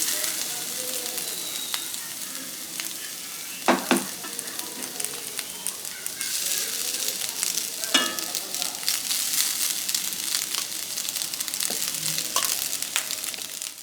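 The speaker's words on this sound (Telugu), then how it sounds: "ఇప్పుడు ఇందులో మనం వండి పెట్టుకున్నాం కదా అన్నం వేసుకుందాం" Cooked rice tipped into fried mint paste in a pan, giving a steady close sizzle with a few soft thumps and spatula scrapes as it settles and gets stirred, no voices.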